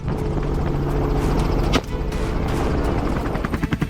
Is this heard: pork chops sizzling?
no